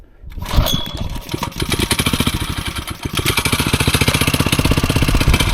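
A small engine on an auction-bought machine sputters to life with choke and a slightly open throttle, then settles into a loud, close, rapid steady chug with a brief dip midway.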